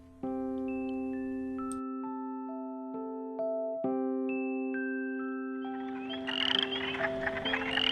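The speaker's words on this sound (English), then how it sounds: "The western chorus frog also makes his presence known in the pond." Steady, layered tonal calls from western chorus frogs in a pond ring out continuously, with a rising chorus of rasping trills building near the end.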